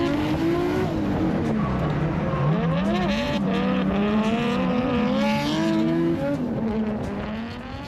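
Drift car thrashed around a lap at Calder Park, engine revs rising and falling continuously with tyre squeal woven through, loud and sustained for the whole stretch.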